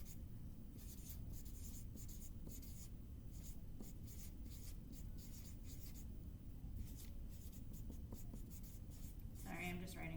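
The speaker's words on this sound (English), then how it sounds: "I'm just writing all this down." Close, continuous scratching of a pen or pencil writing notes on paper, steady strokes with soft taps, a faint hum underneath and a brief clatter near the end.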